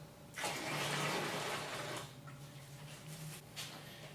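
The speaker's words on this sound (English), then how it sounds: "Then we'll pour it into the cylinder." Just over two litres of hot boiled water mixed with beer extract and sugar is poured into a brewing cylinder for a home-brewed English bitter, a close, rushing gush that tapers to a quieter trickle.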